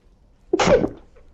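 A single sharp sneeze bursts out close to the mic, brief and loud against near silence.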